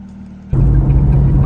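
A Porsche sports car engine starts up abruptly into a loud, deep, close rumble that holds at a throaty idle-rev for about a second.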